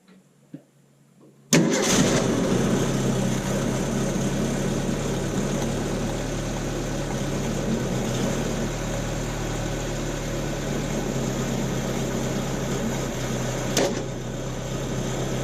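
A 1929 Ford Model A Roadster Pickup engine catches at about 1.5 seconds and then runs steadily at a smooth, even idle, loud and close, with one brief rev or knock near the end and no talking.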